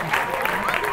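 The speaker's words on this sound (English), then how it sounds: "applause" Audience applause from a comedy stand-up crowd, a dense, steady wash of many hands clapping at close range that holds at an even level for the full second with no voices over it.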